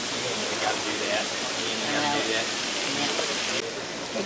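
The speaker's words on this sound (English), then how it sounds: "just going to steam it with some water" Water squirted onto a hot Blackstone griddle around roast beef and melting cheese, a loud, steady hissing sizzle of steam that runs continuously close up, with a voice speaking over it.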